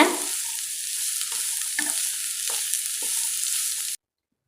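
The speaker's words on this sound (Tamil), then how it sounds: "இப்போ நாம் முள்ளங்கி சேர்த்துடலாம் நல்லா வதக்கிக்கோங்க" Radish and onions sauté in a hot pan with a steady bright sizzle, broken by a few soft scraping stirs of a spatula. There is no talk, and the sound cuts off abruptly near the end.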